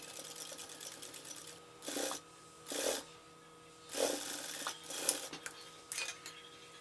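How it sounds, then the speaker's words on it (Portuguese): A straight-stitch sewing machine stitches along a garment's square neckline edge in short quiet runs, several brief whirring bursts spaced about a second apart against a low steady background hum. "E agora eu vou lá pra máquina reta, vou passar uma costura aqui, ó, bem na beiradinha"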